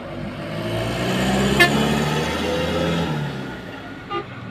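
A Mitsubishi Fuso truck rumbles past on a toll road, its low engine drone swelling and fading against steady traffic noise. A short horn toot sounds partway through, and a fainter one follows near the end.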